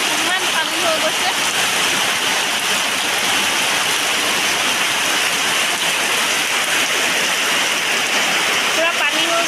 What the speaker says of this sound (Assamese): একদম ইমান জোৰকৈ বৰষুণ দিছে